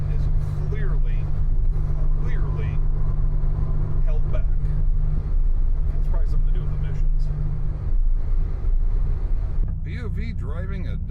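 A 1996 Dodge Viper GTS with an 8-liter V10 cruising on the road, its deep, steady engine drone rumbling continuously up close beneath someone talking, with some wind noise.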